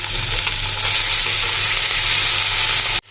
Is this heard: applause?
no